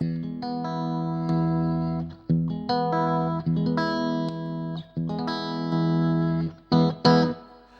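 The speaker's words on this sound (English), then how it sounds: "it's basically an Echoplex tape echo with a real tube" Electric guitar, a Strat, played through a tube Echoplex-style tape echo preamp, ringing out sustained distorted chords in several phrases with short breaks between them, warm and slightly echoed, with no voices.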